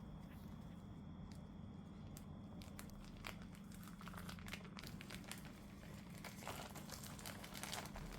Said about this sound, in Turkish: Üzerindeki yağlı kağıdı yavaşça çıkartıyorum.